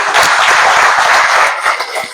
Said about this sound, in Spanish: un aplauso para uno